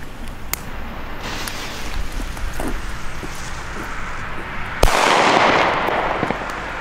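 A German Böller firecracker, relit after it failed to go off, bursts in one sharp loud bang that is followed by a rushing, crackling wash, with small pops and outdoor noise before it.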